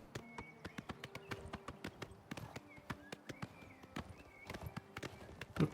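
A horse's hooves beat in a quick, steady gallop rhythm in The Elder Scrolls IV: Oblivion Remastered, the thuds fairly quiet and continuous with a faint buzz underneath.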